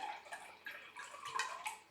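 About 100 milliliters of water poured into a frying pan while making a Japanese tenshin don and kani tama egg dish, a quiet, uneven trickle and splash lasting about two seconds.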